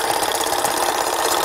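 A sewing machine stitches skirt fabric for a little girl's Santa skirt, a steady rapid mechanical whir and tick running alone and fairly close.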